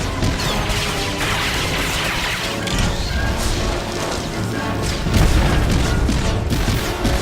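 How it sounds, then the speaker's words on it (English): A missile barrage pounds a turret in Star Wars: The Old Republic: dense, loud rumbling booms and crashing impacts roll on without a break, swelling heavier toward the end. "And with one last barrage of missiles, that's down too."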